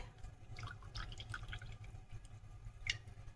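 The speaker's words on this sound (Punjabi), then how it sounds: "ਇਹਦੇ ਵਿੱਚ ਆਪਾਂ ਹਾਫ ਕੱਪ ਪਾਣੀ ਦਾ ਪਾਵਾਂਗੇ" Half a cup of water poured into a pan of sugar for syrup for halwai-style barfi, heard as faint, scattered splashes and drips over a low steady hum in a quiet kitchen.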